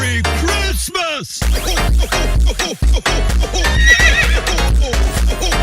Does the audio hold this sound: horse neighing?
yes